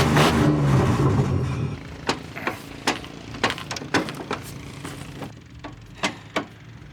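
A race truck's engine revs loudly at first, then drops away into a run of sharp, spaced pops and clicks, each one close and distinct against a quieter rumble.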